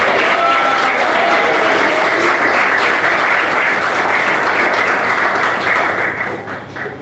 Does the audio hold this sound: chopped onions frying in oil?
no